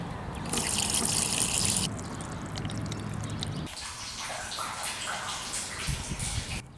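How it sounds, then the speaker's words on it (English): Water is poured into a gutter feeding surplus rain-water storage barrels and runs along it in a steady splashing, trickling flow, loud and close at first, then changing to a lighter dribble with no talk. "let's pour some water in it and see if it flows"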